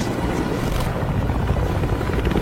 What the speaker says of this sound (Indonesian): mereka tiba-tiba aja dikagetkan dengan hadirnya helikopter musuh